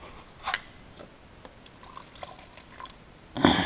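Water and oil mixture, partly frozen, dumped into a paint cup from a 2016 Focus ST oil separator: a short splash, faint trickles and drips, then a louder pour at the end, with no talk.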